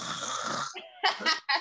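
A person imitates a snore with the voice, a short raspy nasal snort followed by a couple of quick breathy snoring bursts, close and fairly quiet.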